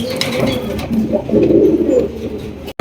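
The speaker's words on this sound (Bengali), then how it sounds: "এখানে রয়েছে একজোড়া বোম্বাই কবুতর" Low, rolling coos from a pair of Bombay pigeons repeat close by, a soft throaty murmur that swells and fades, with a brief cut near the end.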